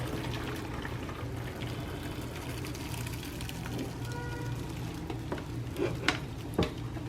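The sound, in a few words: draining water from parboiled rice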